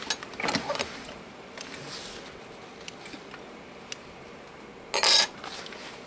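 A sewing machine back-stitches a recycled denim pouch, with short bursts of mechanical stitching and small taps at close range, quiet overall with one louder burst near the end.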